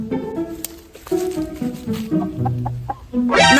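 Chickens cluck in short, close bursts of varying pitch, with one louder squawk near the end.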